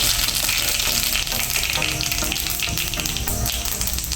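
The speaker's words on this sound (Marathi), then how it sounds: "आता आपण मोहरी घालायची अर्धा चमचा मोहरी अर्धा चमचा जिरे" Half a spoon each of mustard seeds and cumin crackle in hot oil for a vegetable dish, a dense, steady close-up sizzle with fine popping throughout.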